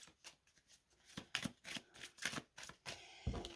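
Playing cards being handled and drawn from a deck, a series of quiet crisp snaps and flicks in irregular rhythm, close and soft, ending with a slightly heavier tap.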